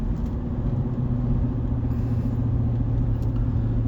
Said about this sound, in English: that downshift has a little bit of a clunky noise to it